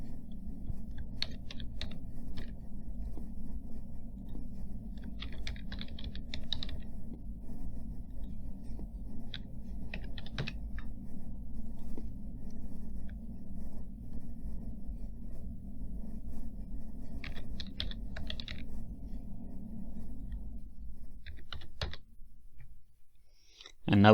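Someone types data into a form on a computer keyboard, with short bursts of clicking keys over a low steady room hum and long quiet gaps between bursts.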